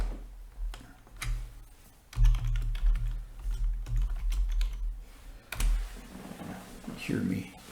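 Quick bursts of clicking keys on a computer keyboard during a lecture, with a voice talking over much of the typing.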